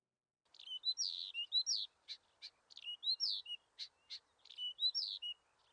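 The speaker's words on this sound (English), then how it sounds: "You hear the call of a nightingale, distantly." A nightingale calls, a series of short, bright chirps and whistled notes in quick repeated phrases with brief pauses between them, clear but fairly quiet against a silent background.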